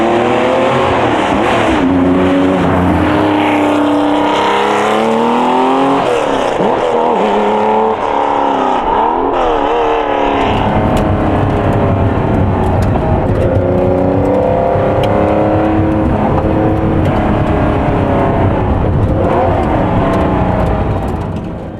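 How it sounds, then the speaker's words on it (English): Porsche Carrera RSR IROC race car with mechanical fuel injection, individual throttle bodies and open intake trumpets, heard from inside the cockpit: a loud, continuous engine roar rising and falling through gear changes and revs, steady throughout. "Inside the car, the noise level is appreciably lower, although it is still very loud."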